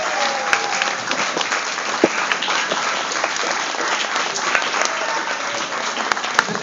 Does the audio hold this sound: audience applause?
yes